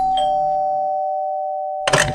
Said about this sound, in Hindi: घर की डोरबेल से।